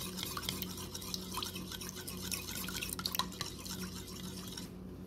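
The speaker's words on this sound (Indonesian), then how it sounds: "Kemudian aduk sampai tercampur." Dressing of pomegranate juice, olive oil and black pepper stirred in a bowl, with soft, quick wet clicks and scrapes of a utensil against the dish over a low steady hum, faint and close.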